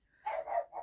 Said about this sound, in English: I thought that was my dog barking.